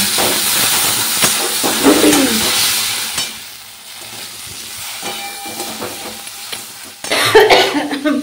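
Rice boiling in a pot, a hissing, steamy bubbling that swells and fades, with a cough-like burst and kitchen clatter mixed in.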